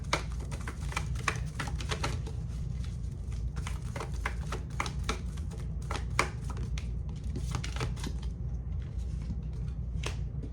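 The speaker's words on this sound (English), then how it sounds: "I'm gonna pull some oracle cards to finish off the reading for you as well" Oracle cards shuffled by hand in a quiet room, a steady run of soft papery riffles and clicks with no talking, over a low constant hum.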